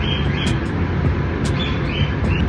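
A pet bird gives loud, sharp chirps and whistles indoors, several short calls spread across a couple of seconds over a heavy, rumbling background.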